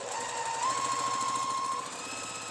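A sewing machine stitches fabric pieces for a Halloween quilt block, a steady close mechanical whir running continuously with a sustained motor tone and no talk over it.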